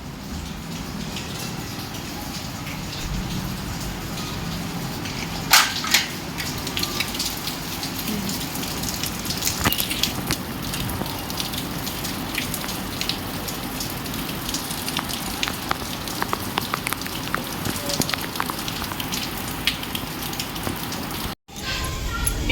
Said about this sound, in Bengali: বাইরে দেখাই, দাঁড়াও, বৃষ্টি হচ্ছে প্রচুর